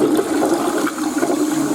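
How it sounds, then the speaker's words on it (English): A TOTO Drake toilet's tornado flush, a continuous loud rush of swirling water close by, steady and forceful throughout with no talking. "now let's see the tornado flush"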